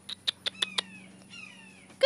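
Cats meowing indoors: a run of five short, high mews in quick succession, then a longer drawn-out meow and one more sharp cry at the end, all close and fairly loud.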